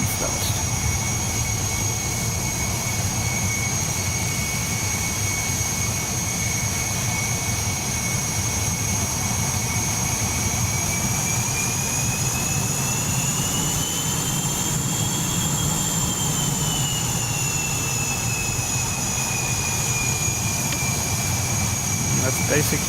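Steady, loud jet engine running up to speed in the F-100 Super Sabre in the DCS flight simulator, a continuous whine with rising and bending high tones over a deep roar across the whole stretch, with speech-like chatter faintly present.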